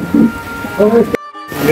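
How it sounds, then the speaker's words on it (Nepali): Rain beginning to fall outdoors near the Miteri bridge in Dharan, a soft steady patter under a man's speech during a brief clip that cuts out for a moment. "पानी पर्ने सुरु यहाँ देखिरहनु भएको छ।"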